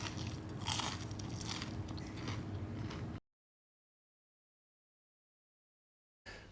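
Loud close crunching as someone bites and chews air-fried panko-breaded food sprayed with olive oil, about three seconds of crackly chewing followed by sudden silence.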